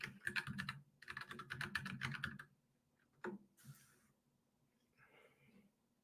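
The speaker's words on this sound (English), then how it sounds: "I'm actually going to type this right here and put it out there for people." Fingers type on a computer keyboard in two quick bursts of close, crisp key clicks, followed by a single louder tap and then near silence with faint breathing.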